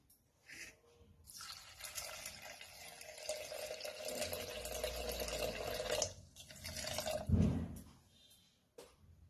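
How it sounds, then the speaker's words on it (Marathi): Water poured from a large cup into a pan of ambada bhaji with turmeric and salt, a close splashing, gurgling pour lasting several seconds and ending in a few drips, quiet and without talk. "आता याच्यामध्ये पाणी घालायचं"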